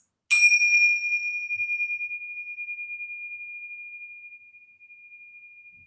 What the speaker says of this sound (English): We will ring our bells to end class